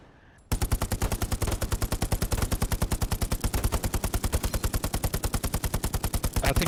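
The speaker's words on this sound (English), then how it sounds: "Let's do some test shooting on this bucket now." Rapid automatic rifle fire from the video game Hell Let Loose, aimed at a bucket during test shooting, bursts in after a brief quiet into a long unbroken string of loud, evenly spaced shots lasting several seconds.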